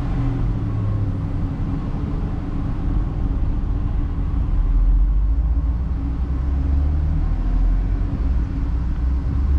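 Engine of a truck with P0174 and P0191 faults, holding near 1,000 RPM and shaking slightly, a steady close rumble that deepens midway as throttle is applied, with no speech.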